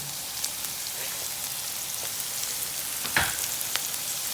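Chopped onions and habanero pepper sizzle in a pan, a steady, fairly quiet hiss of frying with a brief louder crackle partway through.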